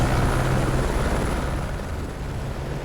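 A helicopter's rotor and engine roar steadily and loudly throughout in the video game Baja: Edge of Control HD, a continuous heavy whirring drone with no voices.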